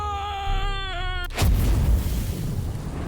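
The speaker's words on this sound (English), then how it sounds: "Boy, he likes exploding everywhere, doesn't he?" A sudden heavy explosion in Ai: The Somnium Files Nirvana Initiative bursts out after a strained, drawn-out vocal groan. The roaring blast then rumbles on loudly and slowly settles.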